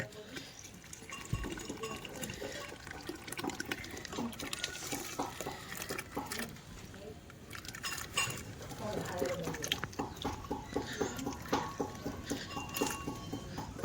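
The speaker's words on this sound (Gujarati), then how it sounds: "એમાં સાબુદાણા નાખવાના છે" Sago pearls patter and rustle into a pan of hot water, a steady close sprinkling with soft clicks and light liquid sounds throughout.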